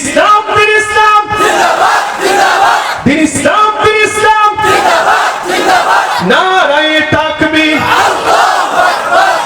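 A crowd of voices shouts a religious slogan in unison, loud and close, in repeated call-and-response bursts with harmonic vocal tones rising and falling across the whole stretch.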